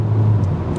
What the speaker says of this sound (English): The engine noise is very loud, like uncontrollably loud, and it's not a good sound at all.